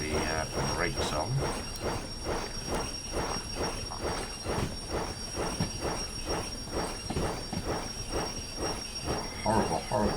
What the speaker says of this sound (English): Horrible, horrible squeal.